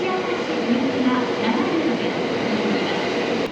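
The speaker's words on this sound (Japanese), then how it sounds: "10本目の列車 JR 京都線の西明石行きがやってまいりました" A JR Kyoto Line local train bound for Nishi-Akashi pulls into a station platform, producing a steady, loud rumble and a faint wheel squeal.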